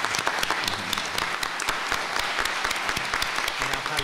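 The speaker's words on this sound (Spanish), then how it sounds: "Un aplauso para él, por favor." Continuous applause fills the room as an audience at a book presentation claps warmly, with close, crisp individual claps over a dense crowd wash.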